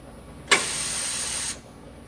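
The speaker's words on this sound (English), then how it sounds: "Machine will start up, and then we'll get in position." A Holz-Her Lumina edgebanding machine in a workshop starts up with a sudden hiss that holds steady for about a second and then cuts off cleanly, loud and close.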